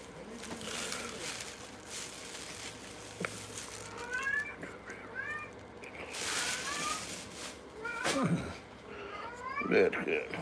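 Pet cats meow several times, their rising and falling cries appearing in short bursts spread across the stretch, moderately close, mixed in with a person talking throughout.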